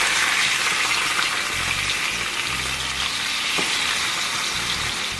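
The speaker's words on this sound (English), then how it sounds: "Then we're gonna just leave the salmon to start searing for about 5 minutes on this side." Salmon searing in melted butter in a skillet, a steady loud sizzle with bright hissing spatter throughout and low bubbling underneath, no voices.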